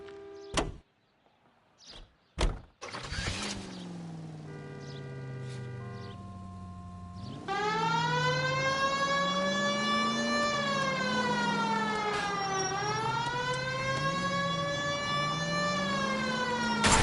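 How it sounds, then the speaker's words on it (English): A police siren in the L.A. Noire video game follows a few sharp clicks and a steady electronic tone, then rises into a loud, continuous wailing siren that sweeps up and down until the end, with no talking. "We have a siren."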